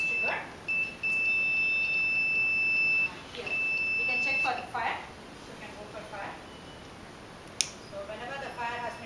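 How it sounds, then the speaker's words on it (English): Loud steady electronic buzzer tones from an all-terrain fire-extinguisher robot's obstacle-detection alarm, sounding in long sustained bursts over the first few seconds and then cutting off, with a voice talking throughout. "whenever we detect any obstacle, we can see here alarming buzzer alarm gets triggered"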